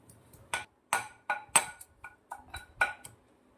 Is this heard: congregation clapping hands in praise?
no